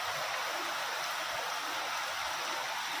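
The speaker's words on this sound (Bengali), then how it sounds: "চলো বৃষ্টি দেখাই, কি বীভৎস জোরে এলো" Heavy rain pours steadily in rural Bengal, a dense, even hiss that fills the whole stretch without pause and with no voices over it.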